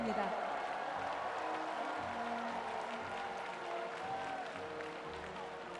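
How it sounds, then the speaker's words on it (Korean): An audience applauds the Ulsan delegation at the opening ceremony of the 103rd National Sports Festival, a steady wash of distant clapping heard under an announcer's voice and reverberant stadium sound. "여러분 다시 한번 울산광역시 선수단에게 힘찬 응원의 박수를 부탁드립니다."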